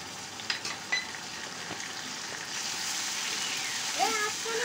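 Ginger garlic paste hits a pan of browning onions, cardamom and spices, giving a close steady sizzle with a few clinks of a spoon and a faint high squeak near the end.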